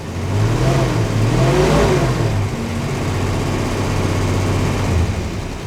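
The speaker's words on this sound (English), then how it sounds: "the motor sounds really good" Engine of a neglected Dodge Dart Swinger, a Mopar, runs steadily and loud up close, revving up and down in the first few seconds before settling into an even drone, with no voices.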